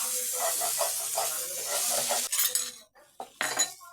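Potatoes being sautéed with vegetables in a pan for a vegetable puff filling, with a steady sizzling hiss and scraping spoon strokes that stop midway, followed by a few sharper clinks and rattles.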